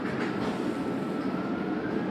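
Inside a moving tram, a steady low rumble of wheels and motor fills the cabin with no talking, a continuous even drone throughout.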